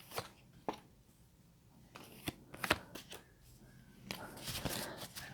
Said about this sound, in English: All right, we're going to pull about 5 cards.